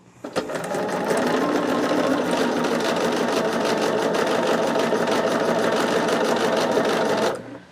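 A sewing machine runs steadily while sewing a row onto a quilt, a continuous even mechanical whir with rapid needle ticking that starts after a brief click and stops abruptly near the end.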